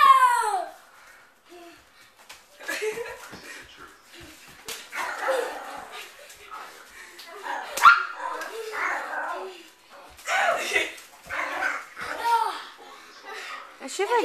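A dog barks in short bursts with some whimpering, set among young people chatting and laughing nearby.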